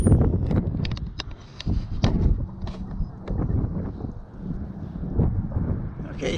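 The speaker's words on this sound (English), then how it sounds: "from BJ and Joe, Hondo, out and about on the Recumbents on a very windy day." Strong gusting wind buffets the microphone on a recumbent bike ride along the Rock Island Trail on a very windy day, a low rumbling roar that surges and eases throughout.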